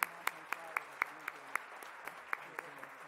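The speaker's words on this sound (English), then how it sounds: "let's give all our winners another great round of applause" Audience at a 2017 philanthropy awards event applauding the winners: sparse, evenly spaced sharp claps, fairly faint and distant, with a low murmur of voices underneath.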